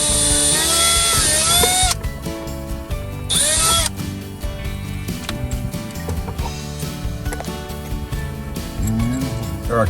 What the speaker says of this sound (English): So I'm just going to drill a hole right here.